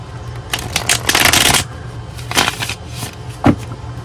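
Playing cards are shuffled close up in several crisp riffling bursts with brief pauses between, and a final short snap.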